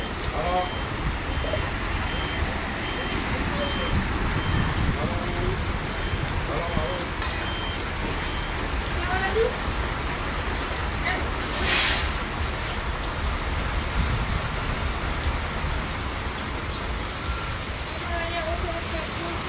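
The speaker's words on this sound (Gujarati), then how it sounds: "લગભગ સવારે પાંચ વાગ્યાથી તો ઘણો બધો વરસાદ વરસી રહ્યો છે" Heavy monsoon rain pours steadily, a dense continuous hiss of drops on surfaces with water everywhere, unbroken for the whole stretch and fairly loud, with no one speaking over it.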